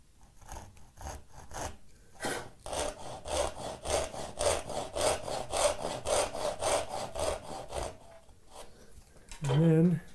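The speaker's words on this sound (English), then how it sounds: "this one's big enough I can actually cut it with a saw" Hand saw cutting a mahogany board, close and distinct, with a fast run of rhythmic back-and-forth rasping strokes that ends in a short burst of talk.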